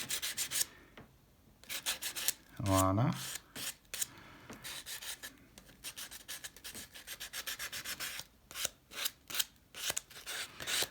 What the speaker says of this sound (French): Donc je vais mettre déjà un petit coup de papier verré.